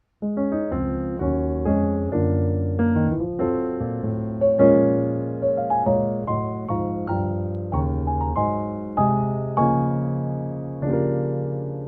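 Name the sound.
piano playing gospel song introduction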